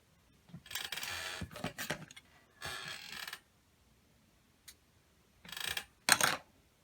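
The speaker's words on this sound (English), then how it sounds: "I don't know what is going on with my sewing machine." A sewing machine runs in short bursts of rapid mechanical whirring and clatter, starting and stopping several times with quiet gaps between.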